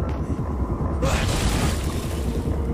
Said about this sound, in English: It's such a violent explosion!